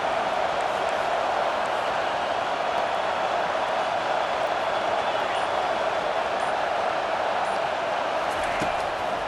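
A stadium crowd roars in EA Sports College Football 25 as fans get behind the defense on third down. It is a steady, loud wall of cheering with no breaks, under a faint hint of voices.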